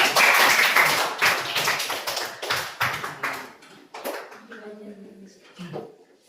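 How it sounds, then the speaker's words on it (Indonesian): A classroom of students claps for a classmate, Sahila, after a correct answer, a dense burst of hand claps that thins into scattered claps and fades over several seconds. "Tepuk tangan dulu untuk Sahila."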